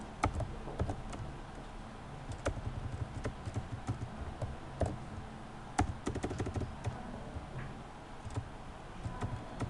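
Steady keystrokes on a computer keyboard while entering PHP code, with irregular close taps and occasional sharper clicks running throughout, no voices.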